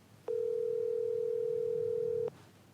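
A steady telephone dial tone sounds alone for about two seconds at even loudness, then cuts off abruptly over a faint background hum.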